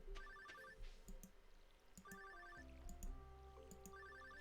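A telephone rings inside the Stardew Valley video game, its electronic trill repeating in three bursts at a steady rhythm, playing alone over soft background game music.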